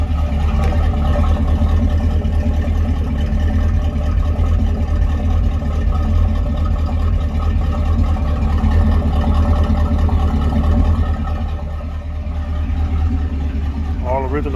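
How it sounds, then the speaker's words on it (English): A car at a car show is cold-started and cranked up after a little gas is poured in, settling into a steady, loud idle of a running engine close by, with people talking over it. "Let y'all hear that cold crank."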